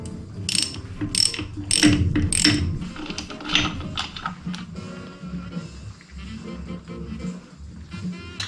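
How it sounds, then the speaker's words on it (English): A hand wrench ratchets rapidly while loosening a bolt on the driveline brake of a 1988 Chevy P30 RV, with bursts of clicking up close that slow into quieter mechanical rattles. "I should be able to get it off with this. It's just a wrench."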